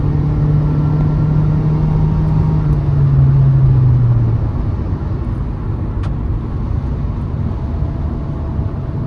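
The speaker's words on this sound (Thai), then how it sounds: "ฟังเสียงเครื่อง โอ้โหเข้าเกียร์" A supercar at a large Thai supercar racing event gives a loud, continuous engine roar with a steady low rumble, holding one pitch before dropping as the gear changes, heard close and filling the whole stretch.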